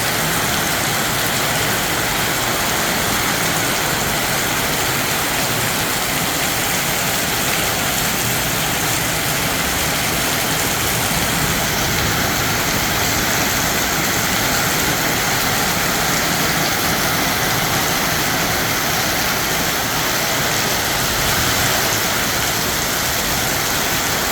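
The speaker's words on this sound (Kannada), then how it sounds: "ಬೆಂಗಳೂರಲ್ಲಿ ಧಾರಾಕಾರ ಮಳೆ ಇವತ್ತು ಮಧ್ಯಾಹ್ನ ಬರ್ತಾ ಇದೆ" Heavy afternoon downpour in Bangalore, a steady, loud, continuous roar of rain that fills the whole span without letup, with a low rumble underneath and no voices.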